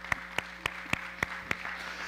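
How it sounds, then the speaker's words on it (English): Clapping from a congregation in an Anglican church: six sharp, evenly spaced claps in a steady rhythm, fairly close and distinct over a low background hum. "And all of you are clapping."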